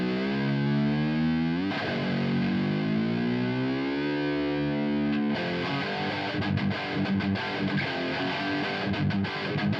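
Distorted electric guitar through a pitch-shift pedal set partway below a full octave, sustained gliding notes that bend downward, then choppier riffing, loud and alone without voices.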